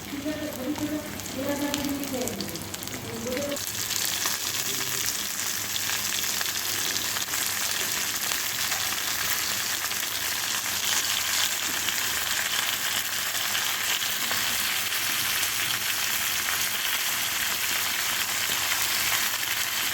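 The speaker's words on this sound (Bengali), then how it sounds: "চিকেনটা একটুখানি ভাজা হয়ে গেছে" Chicken pieces fry with onions in oil, giving a dense, continuous sizzle that holds steady for most of the stretch. A brief voice-like tonal sound comes at the very start.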